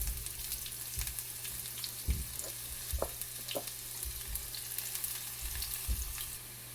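Chopped onions frying in oil with popped mustard seeds for a coconut fish curry, a steady close sizzle broken by occasional soft stirring knocks and small pops.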